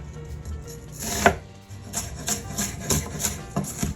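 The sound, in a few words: chopping vegetables on cutting board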